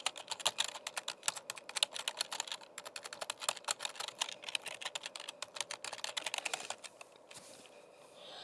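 Rapid, continuous clatter of keys on a mechanical keyboard, close and crisp, a dense run of clicks that thins out and stops near the end.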